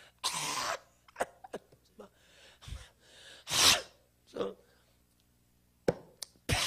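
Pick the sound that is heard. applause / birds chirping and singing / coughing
coughing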